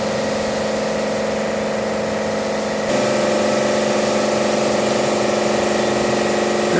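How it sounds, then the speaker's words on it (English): A steam engine runs steadily at a rum distillery in Martinique, a loud continuous mechanical drone with a rhythmic pulsing beat that steps up slightly in level partway through, with no voices. "the heart of the operation here is the steam engine"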